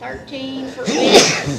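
A single sharp sneeze bursts out in the middle of ongoing conversation at a city budget meeting, loud and close, with speech continuing before and after.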